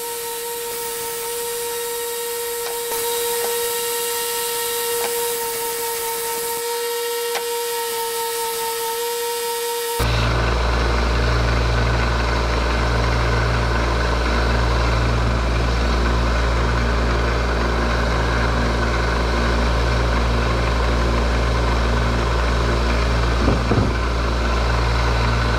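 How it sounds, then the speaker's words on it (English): A small electric sander works on a wooden axe handle: a steady low hum at first, then the tool kicks in with a loud, constant whirring grind that lasts to the end. "And this is not the sander I usually use."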